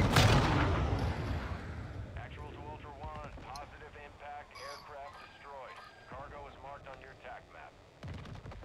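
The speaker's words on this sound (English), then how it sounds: "There's gunfire going on over there, so just be careful of that." Bursts of distant gunfire crackle in Call of Duty DMZ, heavy at the start, then continuing faintly beneath people talking.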